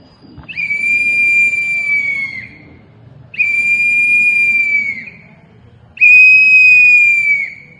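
Whistle blown at a political press conference: three long, loud, shrill blasts, each held about two seconds with brief pauses between, sounding close and piercing over a faint room murmur.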